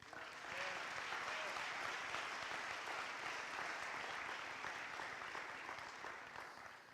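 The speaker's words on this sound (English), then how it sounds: "Please give them a round of applause." A round of applause fills a school gathering, dense even clapping from a crowd that swells quickly, holds steady for several seconds, then begins to taper.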